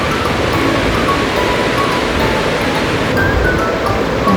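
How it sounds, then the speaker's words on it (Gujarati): Water pouring off a bowl of soaked val beans as it is drained, a close, continuous splashing rush with no voices. "પલળી ગયા છે, હવે આપણે પાણી કાઢી નાખશું."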